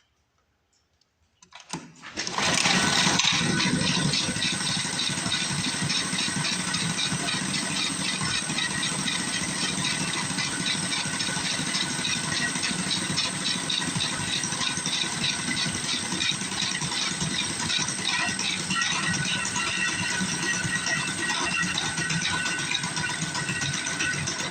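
A small mini bike engine sputters to life after a brief quiet moment, then settles into a steady, rattly idle that runs on unbroken, close and fairly loud, with no voices over it.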